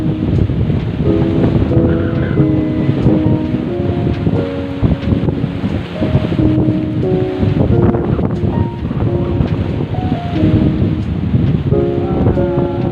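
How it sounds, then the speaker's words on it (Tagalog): Strong wind roars steadily at an island cove resort, buffeting the microphone with loud, constant rumbling gusts; faint tonal chimes or music ring through underneath, and no one speaks. "Super windy."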